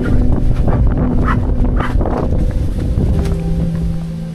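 Strong mountain wind roars and buffets continuously, gusting against a motorcycle tent camp and through the trees, loud and close with microphone rumble throughout.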